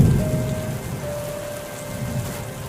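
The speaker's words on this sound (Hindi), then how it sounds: "बाहर बहुत तेज बारिश के साथ साथ हवा भी चल रही है" Heavy rain driven by wind outside a poor farmer's house: a dense, continuous downpour hiss with a deeper rushing undertone, steady throughout and with no voices.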